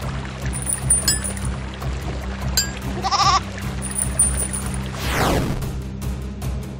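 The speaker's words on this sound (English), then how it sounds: "Goat! Obviously, the cage is locked." A goat in the video game There is No Game gives a short bleat over a steady droning game soundtrack. Brief tones and a sweeping whoosh follow near the end.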